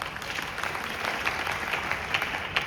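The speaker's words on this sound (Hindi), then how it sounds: "एक बार जोरदार ताली।" Brief burst of crowd applause at a Hindi comedy show, dense clapping holding at a steady level for a few seconds.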